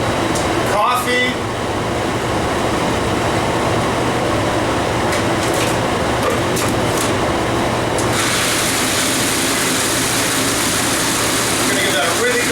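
Kitchen mixer running continuously, chopping raisins into a doughy toffee pudding mixture with coffee, a steady loud motor whir with rough churning texture, shifting in tone partway through.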